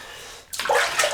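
Hot tap water suddenly gushes on about halfway through, filling a basin for a shave with a bright, close, steady rush after a quiet start.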